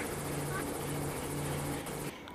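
Helicopter flying in the mobile video game Gangstar New Orleans, a steady rotor whir and engine drone that holds loud and close for about two seconds, then cuts off abruptly.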